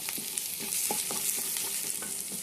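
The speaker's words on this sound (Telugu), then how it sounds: "దీంట్లో అల్లం వెల్లిగడ్డ పేస్ట్ వేసేయండి, పసుపు వేసేయండి." Ginger garlic paste and turmeric sizzle with browned onions in a pan, a steady, close, hissing fry broken by the soft scrape of a spoon stirring through.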